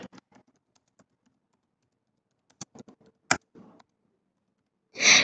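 Scattered keystrokes on a computer keyboard while entering a Scratch program, a few sparse clicks followed by a short burst of quicker taps and a louder final stretch, close and alone with no talking.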